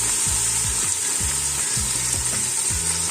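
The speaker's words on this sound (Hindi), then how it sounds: "मैं अब इसको फ्राई करूंगी तकरीबन 5 मिनट्स" Mutton fries with ginger and garlic in a pan, a constant bright sizzle under repeated low scraping strokes of a spoon stirring the meat in a rough rhythm, close up with no speech.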